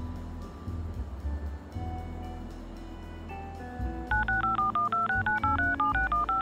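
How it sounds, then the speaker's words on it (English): Telephone keypad dialing tones from the Leisure Suit Larry video game: a rapid, steady run of about a dozen short, even beeps over a low background hum, loud and close. "I'm gonna dial K even if it doesn't work."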